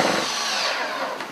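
A Festool cordless drill driving a lag bolt into wood: a loud, steady, strained whine for about a second and a half, close up and alone.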